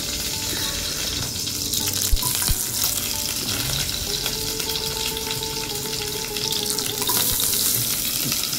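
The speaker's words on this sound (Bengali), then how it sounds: "একটু জল আসতো কড়াইয়ের মধ্যে, তাই এরকম ফুটছে। তো আমি আলু ছেড়ে দিই।" Potatoes tossed into a wok holding a little water crackle and sizzle loudly up close, with a constant bubbling hiss and an occasional clank of the pan.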